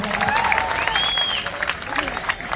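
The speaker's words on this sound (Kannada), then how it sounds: "ಬರಲಿ ಜೋರಾದ ಚಪ್ಪಾಳೆ" Loud audience applause at a Kannada comedy and folk music stage event, steady dense clapping throughout with a few voices mixed in.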